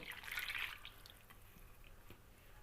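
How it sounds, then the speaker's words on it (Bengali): Water pours into a pan of radish greens being cooked, a brief splashing trickle at first that fades to quiet dripping, close and faint with no talking. "এখন পরিমাণ মতো পানি দিয়ে দিব"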